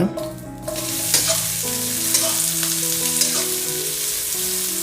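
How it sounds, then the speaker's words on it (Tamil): Onions frying in hot oil for pudina thogayal, a steady close sizzle with stirring scrapes, loud and continuous with no talk. "ஒன்ஸ் எண்ணெய் கொஞ்சம் சூடாகுன கையோட வெங்காயத்தை போடுங்க"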